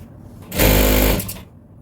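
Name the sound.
sewing machine stitching a hair bonnet lining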